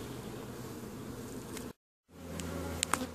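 Honeybees buzz around a hive during colony splitting, a dense, steady drone close by that cuts out briefly and resumes, with a few faint clicks near the end and no speech.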